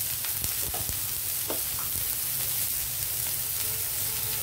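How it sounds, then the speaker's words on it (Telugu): Onions fry in a pan with turmeric and salt, giving a dense, loud, continuous sizzle close by, with a few soft stirring knocks and no speech. "ఇప్పుడు ఉల్లిపాయలు మనకి కలర్ మారక్కర్లేదు. మారకముందే మనం దీంట్లో పసుపు, సాల్ట్ వేసేద్దామండి. అవి వేగుతూ ఉంటాయి."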